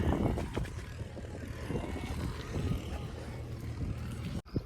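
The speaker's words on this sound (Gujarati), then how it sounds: "આપણે મોરામાં ટ્રેક્ટર હાલે છે એકદમ ઓકે" A tractor engine drones steadily at a moderate distance in a millet field, a continuous low mechanical rumble that barely changes before cutting off briefly near the end.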